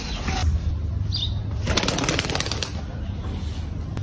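A caged bird flutters and flaps its wings in bursts of soft, rapid feathery beating, close by, over a steady low background hum, with no talking.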